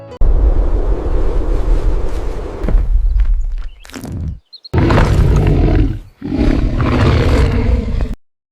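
A dinosaur in an AI-generated scene gives loud, sustained roars with a rumbling low end, broken by a brief pause and a short gap before two more long bellowing roars, with wind-like noise and no talk.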